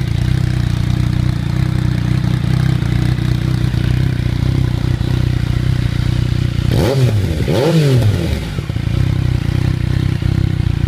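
A Yamaha FZ-09 motorcycle fitted with an M-4 exhaust idles loud and close, a steady deep rumble; two quick throttle blips rise and fall near the end before it settles back to idle.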